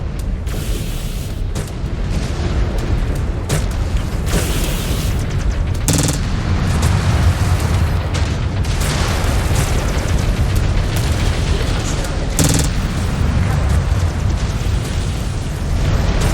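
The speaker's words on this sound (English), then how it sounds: "Incoming missile." Incoming missiles pound a mech in MechWarrior 5 Clans. Loud, continuous, rumbling explosions run throughout, with sharper bursts breaking through at intervals.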